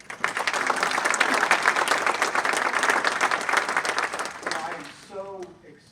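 Audience applause for a keynote speaker at a Conservative Party event in New York: dense, steady clapping from a sizable crowd that fades out, with a voice beginning to talk at the end.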